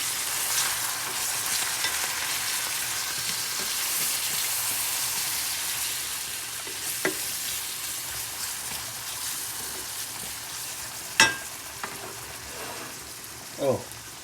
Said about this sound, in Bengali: তারপর আমরা একটু এগুলোকে মিক্স করে নেব।